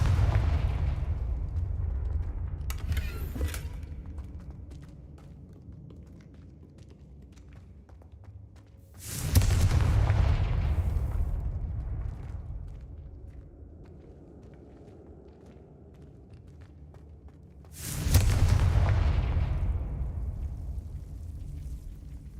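Confringo explosive spell blasting in Hogwarts Legacy, three loud booming detonations spaced about nine seconds apart, each with a sharp crack and a long rumbling decay, over a low steady background drone.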